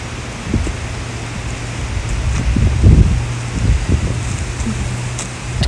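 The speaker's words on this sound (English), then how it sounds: "it's a bit windy" Strong wind buffets and roars past outdoors in Leeds, with gusty surges rising and falling over a few seconds, close and loud.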